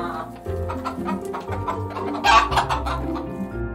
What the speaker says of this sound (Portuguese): É uma galinha.